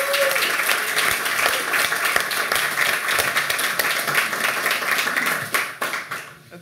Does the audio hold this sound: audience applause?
yes